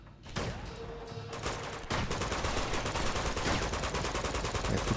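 Dense shotgun and automatic gunfire from an Uncharted 2 firefight against a shotgun-wielding enemy, loud rapid bursts that thicken into a nearly continuous barrage after a brief opening shot.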